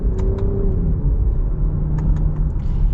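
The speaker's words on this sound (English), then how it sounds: "Now let's get our acceleration. By the way, I'm in the manual mode, starting in second gear here." A 2021 Lexus RX 350 F Sport with an 8-speed automatic accelerates in manual mode from second gear, giving a steady close engine rumble from inside the cabin with a rising tone and a quick shift change midway.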